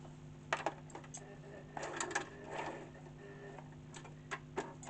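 A Brother LS14 sewing machine stitches in short bursts of quick mechanical clicking and ticking, close and fairly soft, with pauses between runs.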